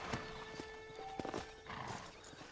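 A horse in the Western video game Red Dead Redemption clip-clops at a walk with a soft whinny, faint and steady over a quiet background.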